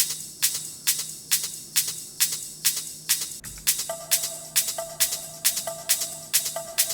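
Electronic hi-hats and ride cymbals tick in a steady bright pattern with occasional crash accents, over a faint low hum, and a sustained tone joins partway through.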